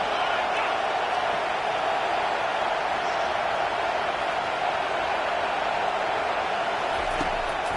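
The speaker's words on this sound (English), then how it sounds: "And here comes the noise. This crowd is trying to inspire this defense to make a big red zone stop." Stadium crowd at an East Carolina college football game, a steady, loud roar building as the defense tries for a red zone stop on third down, sustained throughout without breaks.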